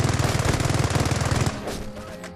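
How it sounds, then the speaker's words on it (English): Rapid machine gun fire rattles loud and close in a World War II video game battle at Mortain, a fast even burst lasting about a second and a half before it cuts off and a softer, fading tail of gunfire follows. "Taking small arms fire here!"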